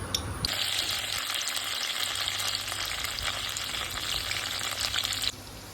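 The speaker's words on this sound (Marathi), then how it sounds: "तेल आता आपलं मस्त गरम झालेलं आहे तर त्याच्यामध्ये आपण थोडीशी कोथिंबीर टाकून घेऊया" Coriander leaves sizzle steadily in hot oil for a village-style spicy chicken rassa, a loud, continuous frying hiss that begins abruptly after a brief moment and runs unbroken until it cuts back near the end.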